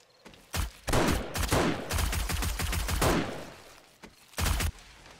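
Gunshots in the modded 7 Days to Die video game, with bursts of rapid automatic fire and a few separate volleys, loud and close, with no talking over them.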